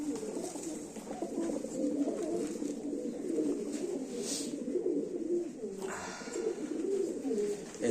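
American Fantail breeding pairs coo continuously in a dense, overlapping murmur, with a brief brighter rustle partway through.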